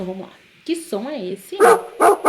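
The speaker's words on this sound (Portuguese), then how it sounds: "é um som de cachorro" A dog barks three times in quick succession, loud and close, right after a voice asks a question.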